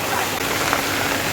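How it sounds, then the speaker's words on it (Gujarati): Steady rain pours down outdoors under a clouded sky in a Gujarati town, a dense continuous hiss of drops on surfaces filling the whole short stretch at an even, fairly loud level. "વરસાદ છે ને આમ વરસાદ વરસે છે આ બાજુથી"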